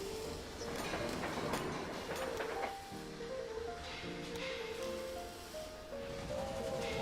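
A train runs on track in the video game Railway Empire, with rumbling rail noise and clattering at first, then steady tonal hum and mechanical tones at moderate level.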